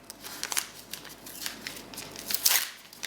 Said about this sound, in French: On va prendre une compresse stérile, si j'arrive à ouvrir.